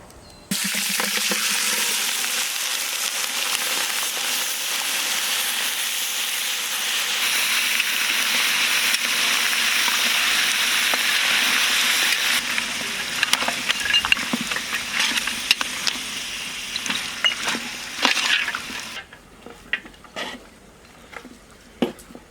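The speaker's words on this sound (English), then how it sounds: "first we boil this mutton with ginger garlic paste and black pepper" Mutton boiling with ginger garlic paste and black pepper, a loud steady hiss of bubbling and steam that later breaks into irregular pops and spatters before quieting.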